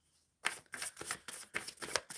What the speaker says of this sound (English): Shuffling for romance and love for M Love.